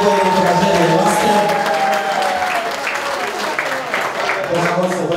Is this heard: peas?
no